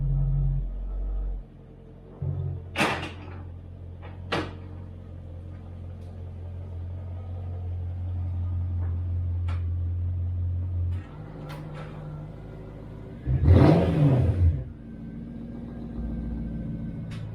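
A Jaguar XK8 and another car are started, idled and moved around in a garage, with low engine rumble, a door thud or two and a louder rev surge near the end.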